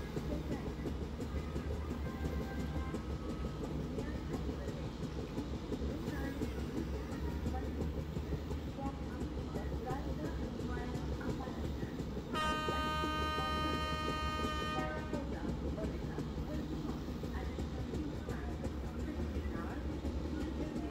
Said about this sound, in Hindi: फ्लैट व्हील ट्रैक साउंड मेरे ही है गाइस।